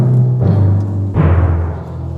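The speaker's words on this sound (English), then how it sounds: "So those are the drums, the timpani" Orchestral timpani struck a few times, each hit a deep booming tone that rings and slowly decays, close and loud with no voices.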